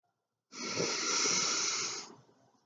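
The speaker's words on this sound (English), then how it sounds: "breathing in." A single long, steady inhale during breathwork practice, close and audible as a breathy hiss lasting about a second and a half before fading out.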